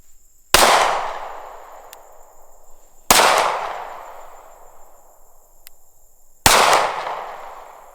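Three sharp, loud pistol shots from a Sig P365XL fitted with an Icarus Precision grip module, fired at a 50-yard target outdoors, spaced a few seconds apart, each followed by a decaying echo.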